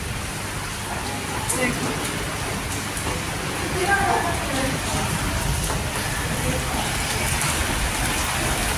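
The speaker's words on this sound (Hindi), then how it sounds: "और अच्छी खासी बारिश हो गई" Steady heavy rain pours down outdoors, a dense continuous hiss with scattered drops close by, while a voice briefly speaks over it.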